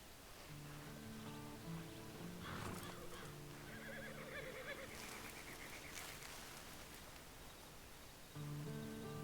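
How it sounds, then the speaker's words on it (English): A horse in Red Dead Redemption 2 gives a long, clear whinny, alongside soft hoof clip-clops and rustling over a quiet, steady ambient background. "Then you better get on this horse."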